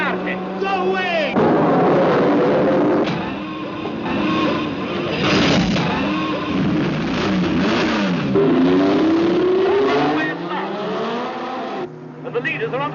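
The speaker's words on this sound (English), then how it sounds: "And the leaders are onto the banking for the first time, with Barlini's Ferrari in front of Stoddart" Racing cars of the Grand Prix era, including a Ferrari and a BRM, roar loudly onto a race track's banking, with engines rising and falling as they speed past and voices heard over the din.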